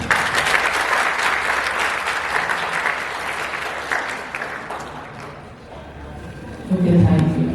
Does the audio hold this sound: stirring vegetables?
no